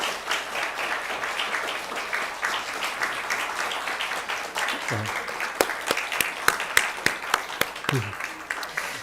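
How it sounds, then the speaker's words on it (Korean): Applause from a church congregation during a Christmas service, a steady wash of many hands clapping through the whole stretch, with a few sharper individual claps standing out near the end. "우리 박수 한번 지금 이렇게 붙일게요"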